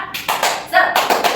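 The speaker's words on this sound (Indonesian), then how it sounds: "Tepuk semangat." A group claps in a quick rhythmic pattern, several sharp claps in a row, close and lively.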